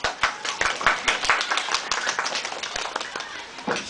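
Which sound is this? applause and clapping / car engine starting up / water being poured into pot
applause and clapping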